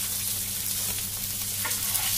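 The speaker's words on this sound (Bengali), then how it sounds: "আমি ব্যাপক কড়া করে ভাজা করে নিয়ে একটু হালকা করে ভাজা করেছি।" Katla fish fry in a pan with a steady crackling sizzle over a low continuous hum, close and even, and a couple of brief clinks toward the end.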